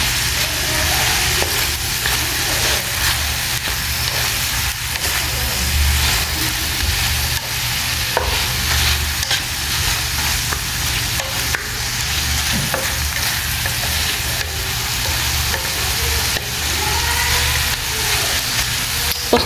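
Seasoned food frying in a pan while being stirred, a loud continuous sizzle with occasional scraping strokes of the spoon, close up and steady throughout, with no voices.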